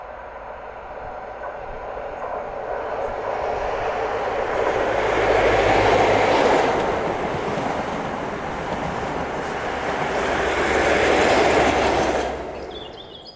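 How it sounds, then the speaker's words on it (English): A ScotRail HST made up of power cars 43138 and 43003 slows into Gleneagles station with a broad, swelling rumble and rush that rises, dips and rises again before fading out, fairly loud and close. "we see ScotRail HST formed of 43138 and 43003 as they slow for the book stop at Gleneagles"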